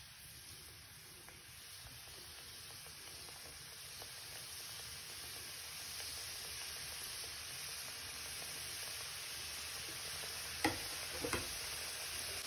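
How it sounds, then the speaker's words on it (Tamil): Somas pastries frying in hot oil over a low flame, a steady soft sizzle and hiss with a few faint taps near the end. "இப்போ நம்ம செஞ்சு வச்சுருக்க சோமாசை பொறிச்சு எடுத்துக்கலாம்"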